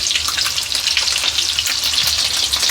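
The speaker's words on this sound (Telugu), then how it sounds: "ఎగ్స్ ఫ్రై అవుతుంటాయి మనకి." Eggs for an egg pepper fry sizzle in a hot pan with oil, a steady close crackle and hiss with occasional stirring, heard alone without talk.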